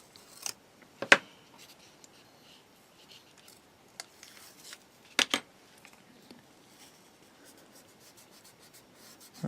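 Scissors snip material to length while building a Takom 1/35 scale Chieftain Mk10 model kit, giving a few sharp, close cuts separated by quiet pauses.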